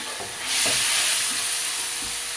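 Vegetables and crushed tomato frying in a pan for a bulanglang dish, a loud sizzle that swells suddenly and holds, with soft scraping stirs underneath.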